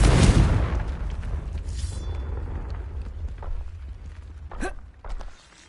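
A loud, low blast of the Confringo fire spell in Hogwarts Legacy opens the moment, its rumble fading into a dull lingering boom with a brief crackle near the end.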